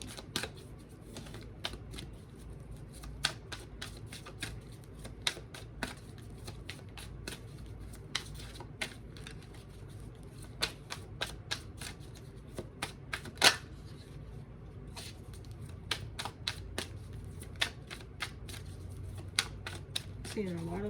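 Tarot cards shuffled and flicked close by in a steady patter of small papery taps and clicks lasting a long stretch, with a low background hum.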